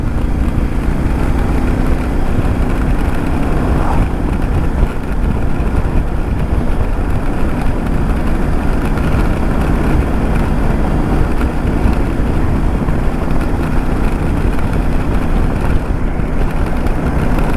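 CF Moto 800MT motorcycle engine pulling steadily while riding on a road, a continuous low drone with wind rush, loud and close throughout, no talking.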